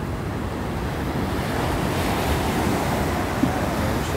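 Surf at San Juan, La Union beach rolls in as a steady low roar of breaking ocean waves, with wind buffeting the microphone and no clear voices.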